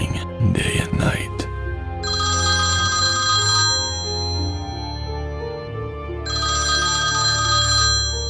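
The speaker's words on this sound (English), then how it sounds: "the white phone kept ringing day and night." A white telephone rings in long repeated bursts, loud and steady, with a low hum underneath and a few knocks at the start.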